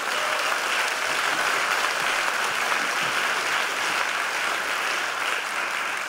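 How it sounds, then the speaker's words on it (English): An audience at a medical school white coat ceremony applauds continuously, a dense, even wash of clapping from a large crowd with no voices over it. "They deserve a round of applause."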